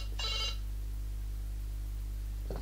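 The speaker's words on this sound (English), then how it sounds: "Do you mean answer my phone?" Mobile phone ringing: one short high electronic ring burst near the start, then a steady low hum and quiet room with no voices.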